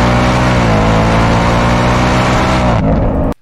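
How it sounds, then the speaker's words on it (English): A supercharged Ford Mustang fitted with a Whipple runs in a loud, sustained, close roar with slight pitch shifts, then drops away sharply at the end. "This is that Whipple 24."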